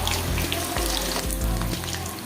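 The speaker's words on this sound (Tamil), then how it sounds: "மிதமான தீவிரம் தான் வச்சு வறுக்கணும்" Chicken 65 frying in oil over a moderate flame gives a dense, loud sizzle, with a few stirring knocks and some watery bubbling mixed in.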